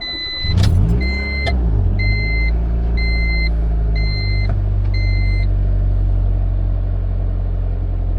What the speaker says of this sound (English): Let me go back and show you the cold start and let you see how well this engine runs.